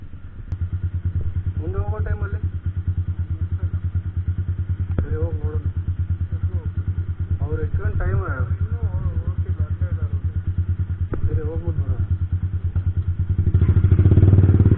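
Motorcycles ride in a group at a World Motorcycle Day club event near Bangalore, with a steady close engine throb throughout, scattered voices over it, and a louder rush of wind and engine near the end.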